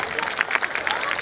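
Audience applause at a stage event, continuous crowd clapping filling the short stretch at moderate loudness.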